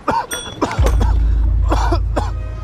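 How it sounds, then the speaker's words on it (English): A man coughs and clears his throat in a few short, harsh bursts, close and fairly loud, over a steady low hum. "it's just a cough"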